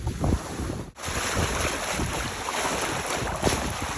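A sailboat reaching with the wind on the beam, water rushing and gurgling at the transom under steady wind buffeting the microphone, a continuous close wash with one brief dip in the first second.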